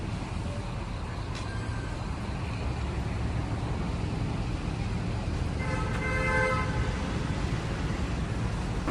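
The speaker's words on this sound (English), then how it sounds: "The school bus behind us just pulled away" A school bus pulls away on a street outside a primary school in China, its broad engine rumble steady amid loud traffic, with a brief horn toot early and a tonal engine or brake whine rising near the end.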